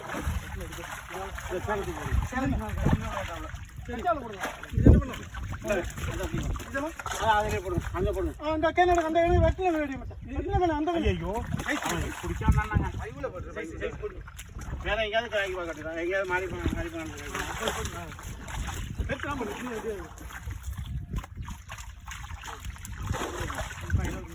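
Water is scooped and poured over freshly caught fish in a crate at a village pond harvest, giving repeated splashes and trickles while people talk throughout.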